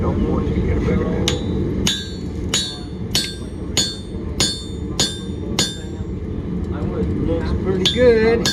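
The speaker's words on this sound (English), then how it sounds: "Some serious punching this time. We'll get some heavier hammer." Heavy hammer punching a hole in hot steel while forging a tomahawk, about ten evenly spaced ringing metallic strikes, loud and close, over background rumble, with people talking in between.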